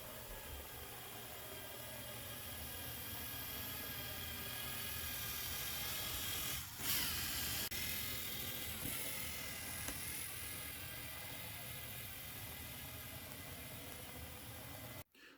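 A LEGO Spike Prime robot's motors drive its wheels along a pool noodle with a constant, buzzing electric whine that holds steady for many seconds, wavers slightly midway, then cuts off abruptly at the end.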